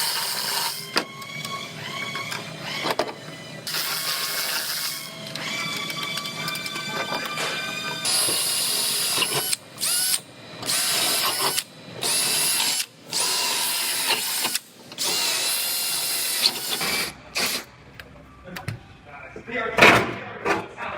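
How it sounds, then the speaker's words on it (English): A power drill whines in repeated bursts, drilling blind-rivet holes in a BMW body panel, starting and stopping several times with short gaps between holes, fairly close. "I'm gonna go ahead and drill all my holes where the blind rivets go"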